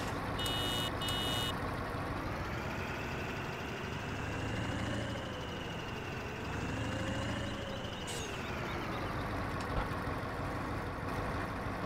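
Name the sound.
video game custom tractor engine sound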